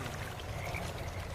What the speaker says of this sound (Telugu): కప్పల అరుపులు భయపెడుతూ ఉన్నాయి